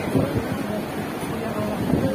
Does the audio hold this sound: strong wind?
yes